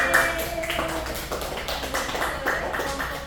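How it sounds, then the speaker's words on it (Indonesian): A small classroom group claps for the presenting group during a microteaching session, with a brief, moderately loud burst of hand claps and no voices over it. "boleh tepuk tangan untuk kelompok"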